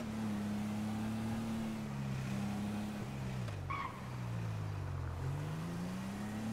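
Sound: car engine running roughly in GTA video game

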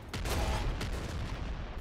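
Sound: explosions in video game Nuclear Throne

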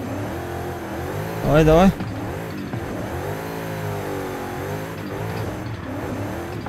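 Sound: car engine revving while standing still in Forza Horizon 5 video game

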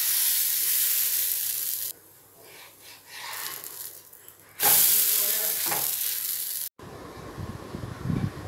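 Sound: adai dosa batter sizzling on a hot pan

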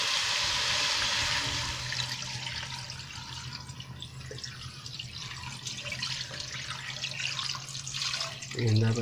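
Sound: water being poured into a pot of sautéed plicate conch

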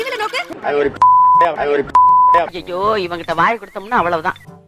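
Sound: censorship beep sound over broadcast

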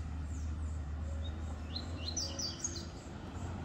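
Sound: double-collared seedeater calling

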